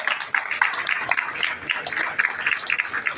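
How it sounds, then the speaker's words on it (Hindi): Audience at a Hindu gathering in a temple courtyard applauds to welcome a family, steady dense clapping over about three seconds with a faint voice underneath. "आप सभी से निवेदन है थोड़ा सा तालियों से स्वागत करेंगे।"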